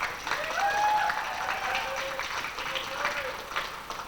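An audience at a 1999 high school stage production of the musical Oklahoma applauds, a steady moderate patter of clapping from the hall while performers' voices carry over it on stage.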